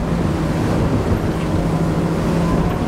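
Loud, constant roar of a Saxdor 320 GTO motorboat's engine running at about 4,500 revs near 37 knots, mixed with rushing water and wind at close range, steady throughout.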